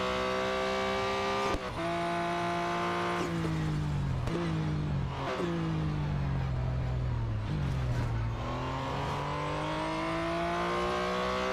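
A race car lapping in the mobile game Real Racing 3, its engine whining loud and continuous, pitch climbing through each gear then dropping sharply at the shifts, with brief dips where it brakes.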